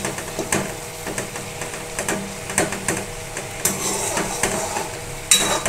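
Aloo posto, potatoes in poppy seed paste, is stirred in a pan with repeated scraping clacks and knocks of a spatula against metal, close and fairly loud.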